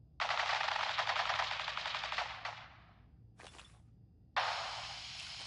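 Rapid automatic gunfire rattles in the Fallout 4 video game, a long loud burst followed by a short spurt and then another sustained volley.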